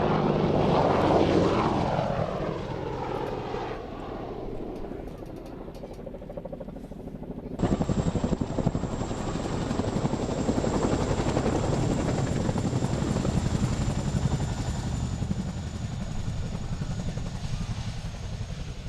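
Tornado GR4 military jets roar low over an air display, a loud, sustained engine rumble that builds sharply partway through into a harsh, high-pitched jet whine.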